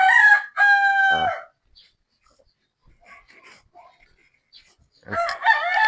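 Game fowl cocks on a game farm crowing, one loud close crow at the start and another breaking in near the end, separated by quieter clucks and farmyard noises.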